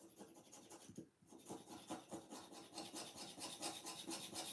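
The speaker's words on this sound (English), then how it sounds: "this is a great tool for coming along and just chipping off the paint" A precision transfer tool scraping paint off a waxed surface, giving close, quiet, rhythmic rasping strokes that pause briefly then continue in quick repeated passes.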